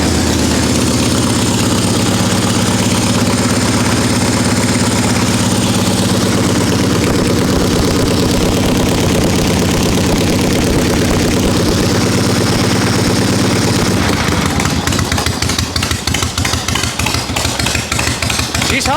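A 1974 Harley XLCH chopper engine idles loud and close with no exhaust hooked up, a steady raw chugging that turns into sharper, uneven firing pulses toward the end.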